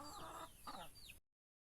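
Backyard chickens cluck eagerly at feeding time as they are given leftover rice mashed with rice bran: a few close, short clucks and squawks in a brief burst.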